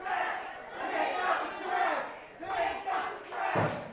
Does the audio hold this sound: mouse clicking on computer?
no